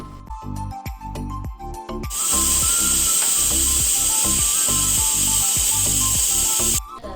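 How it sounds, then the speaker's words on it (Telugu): A pressure cooker of mutton pulao rattles with quick rhythmic puffs, then bursts into a loud, sustained, shrill whistle of hissing steam for several seconds before cutting off. "నాలుగు విజిల్స్ వచ్చేదాకా ఉడకనివ్వాలి"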